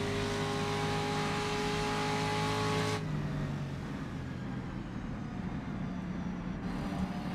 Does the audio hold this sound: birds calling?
no